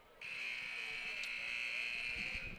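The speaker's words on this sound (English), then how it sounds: "But that buzzer said, come on, let's get going." A loud, steady electronic buzzer sounds in a gym during a girls' varsity high school basketball game, holding one unbroken tone for over two seconds over faint crowd rumble before cutting off.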